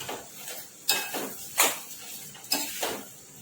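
Mashed potatoes being stirred with salt in a pan for vada pav filling, a spoon knocking and scraping against the metal in a few sharp, irregular clatters between softer mixing sounds.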